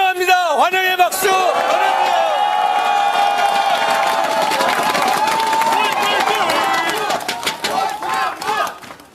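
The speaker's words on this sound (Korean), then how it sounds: "환영의 박수!" A large crowd at an outdoor political rally in Wonju cheers and applauds to welcome a party leader, a loud sustained roar with whoops running beneath an amplified voice that speaks at the start.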